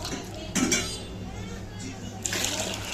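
Food being rinsed with water in a pot in a home kitchen, with two short splashing pours amid clinking pots and utensils, close by, and faint voices nearby.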